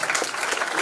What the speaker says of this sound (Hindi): चलो चलो ताली।